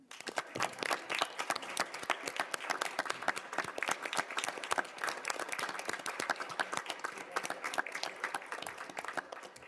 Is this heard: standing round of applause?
yes